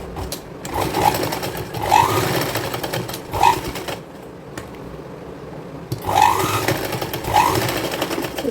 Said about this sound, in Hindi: इस तरह से हम इसमें सिलाई लगा देंगे।